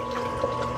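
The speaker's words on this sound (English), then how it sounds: "We want to dump hot water in, and we want to dump it all the way up to the 64 fluid ounces." Hot water being poured slowly into a Ninja SLUSHi FS301 frozen drink maker: a steady, close, even rush of liquid with a faint hum and no talking over it.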